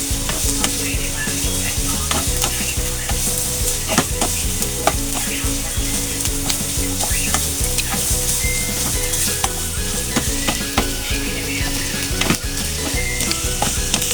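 Onions sautéing in a pan for escabeche, a steady dense sizzle under frequent scraping and stirring strokes, close and loud throughout with no talk.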